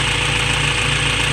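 A modified car engine with a DIY intake, running very rich with too much timing, idles steadily and loudly up close, a continuous low rumble with a faint rhythmic lope and no voices.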